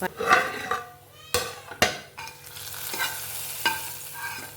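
Finely chopped onions fry in a pan for a fish curry: a low, steady sizzle broken by several sharp spoon knocks and scrapes against the pan, with no talking.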